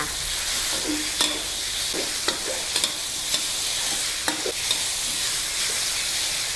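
Fatty pork being stir-fried with lemongrass in a pan, a steady loud sizzle running throughout with several sharp scraping clicks from the spatula at irregular intervals, close up and with no talking.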